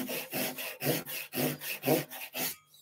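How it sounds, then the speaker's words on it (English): A hand tenon saw cuts wood for a halving joint, sawing down toward the gauge line in about six rhythmic, rasping strokes, close and clear, and then stops. "Using the saw one-handed, we've got that finger on the top."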